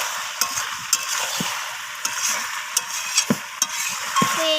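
Chicken stir-frying in a pan after salt is added, with a steady sizzle underneath and sharp scraping clicks of the spatula at irregular intervals, close and moderately loud, no talking.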